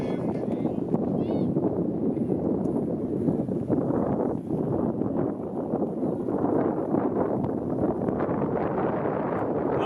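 Steady, loud gusting wind buffets the microphone outdoors at a varsity high school baseball game, a continuous low roar with no breaks, and a commentator's voice runs over it throughout.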